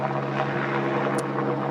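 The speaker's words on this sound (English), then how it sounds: "This helicopter's getting pretty bloody annoying now. It's actually just hovering over." A helicopter hovers overhead, producing a steady, droning rotor and engine hum that stays at an even level throughout, with no speech.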